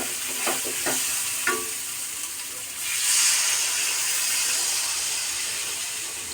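Oil sizzles steadily as spices fry in a pan for a fish curry of bele fish, with a few sharp scraping stirs early on and a brighter hiss swelling midway and holding to the end.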